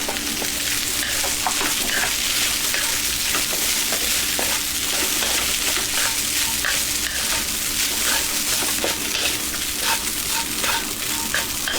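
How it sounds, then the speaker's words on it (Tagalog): Sliced chicken breast frying with sautéed garlic in a pan for sisig, a loud continuous sizzle with frequent stirring clicks and scrapes throughout. "Pagkatapos po natin mag-gisa, ilagay na po natin ang ating chicken breast."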